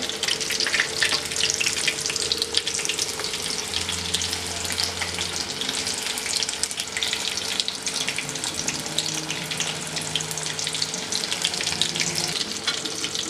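Crispy chicken frying in oil over a low flame gives a steady, close, dense sizzle and crackle that holds evenly throughout with no one talking.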